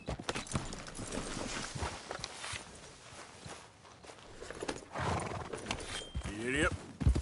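In Red Dead Redemption 2, a horse gallops with steady clip-clop hoofbeats and gives a rising whinny near the end, up close and mixed with game sounds and faint talk.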